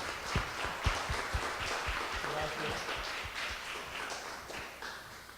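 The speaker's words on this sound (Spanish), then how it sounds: "Esto merece un aplauso." An audience at a literary awards ceremony for short stories and poetry applauds with dense, continuous clapping and a few sharp louder claps near the start, while voices murmur underneath.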